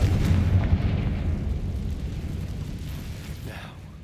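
A Confringo fire spell in Hogwarts Legacy explodes with a deep, rumbling boom that starts strong and slowly decays over several seconds, with no other sound over it.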